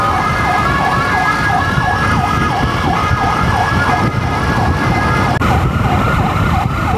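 Emergency ambulance siren wailing in a steady, repeating up-and-down cycle, loud and close over road traffic rumble, continuous from start to finish.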